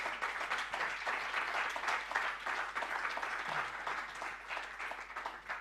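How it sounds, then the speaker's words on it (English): A conference audience applauds its panelists with a soft, distant, even patter of clapping that carries on steadily, with a faint low hum beneath. "can we have a big round of applause for our panelists?"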